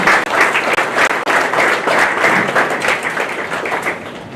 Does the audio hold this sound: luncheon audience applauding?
yes